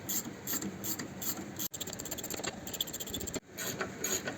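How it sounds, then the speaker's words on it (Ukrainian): Rear differential bolts on a Hyundai Tucson are loosened with a ratchet, producing close, continuous rasping clicks in quick rhythm, broken by two brief pauses. "Відкручуємо болти редуктора."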